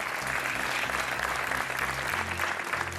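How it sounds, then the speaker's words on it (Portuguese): Studio audience applause welcoming a contestant on a television game show, a thick continuous roar of clapping with low music tones running underneath. "o vosso aplauso para o Gonçalo Seabra"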